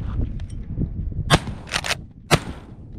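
Two sharp, fairly close shotgun blasts ring out at a clay target shoot, spaced about a second apart, with a faint quieter crack between them and soft background noise.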